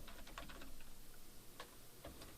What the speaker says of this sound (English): hit the return key on my keyboard a few times, tab over a few times with the tab key